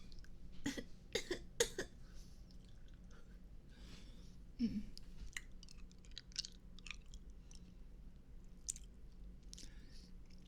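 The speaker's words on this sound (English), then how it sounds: "I'll do a cuter cough" A few quick, soft coughs close to the mic, followed by a single small cough, with quiet mouth and breathing noises in between.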